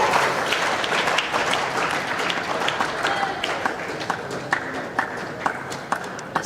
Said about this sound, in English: The applause you can hear is for the under 13 singles final